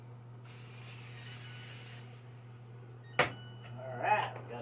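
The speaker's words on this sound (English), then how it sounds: "I'm going to go ahead and spray this with, I just use Original Pam on this" A steady hiss of Original Pam cooking spray from an aerosol can lasting about a second and a half, followed later by a sharp clack and some light handling noises.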